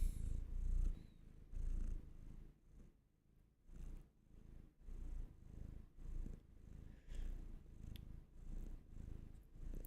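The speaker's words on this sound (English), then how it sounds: "I don't know if you can hear the purring." A pet cat named Luna purrs steadily up close, a low rhythmic rumble rising and falling with each breath, soft but continuous and with no talking over it.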